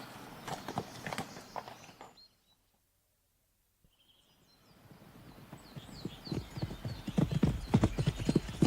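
Horse hooves clip-clop steadily as a radio drama sound effect in a medieval sheriff's yard, starting after a silent gap and growing louder and closer, with a faint whinny and distant birds.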